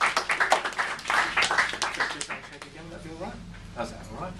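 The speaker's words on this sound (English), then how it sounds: "Can we have a big round of applause for Chris," Audience applause for volunteer Chris during a hypnotist's handshake demonstration, a burst of clapping that starts loud and fades within a few seconds while voices talk over it.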